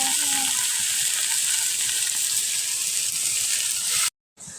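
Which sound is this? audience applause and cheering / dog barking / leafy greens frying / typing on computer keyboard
leafy greens frying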